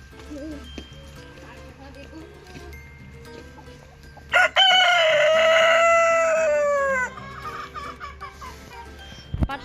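A Brahma rooster crows once, loud and close, a long drawn-out call of a few seconds, with soft murmuring and faint clucking of hens before and after.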